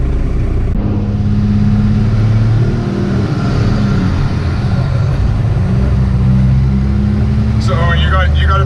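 A first-generation Cummins diesel pickup used as a tow rig and fitted with big injectors drives along, its engine giving a loud, steady low rumble with shifting drone tones throughout, and a voice briefly audible near the end.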